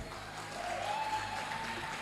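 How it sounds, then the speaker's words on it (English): Audience applause at a TEDx talk, steady dense clapping from a large crowd with a faint tone running through it, loud and continuous for two seconds. "Please, a round of applause."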